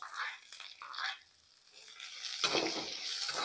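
Spices for a Betagiri chutney tempering sizzle and crackle in hot oil in a pan, a steady close frying hiss that swells louder partway through, with no talking.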